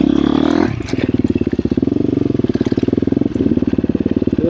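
A KTM 350 XCF Factory Edition dirt bike engine running on its low engine-braking map sounds close and loud, shifting after a moment into a steady, rapid thumping pulse that holds for several seconds.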